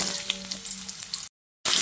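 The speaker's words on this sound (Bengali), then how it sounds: "ফোড়ন কয়েক সেকেন্ড ভেজে নিয়ে এবার আমি কেটে রাখা আলুগুলো দিয়ে দিচ্ছি" Cut potatoes sizzling in hot oil with cumin seeds, a bright crackling fry with light stirring, broken by a sudden brief silence before the loud sizzle resumes.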